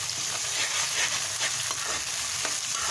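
Green chillies crackle and hiss in hot oil for a short stretch of dal maash cooking, a dense, even sizzle close by with faint stirring underneath and no voices.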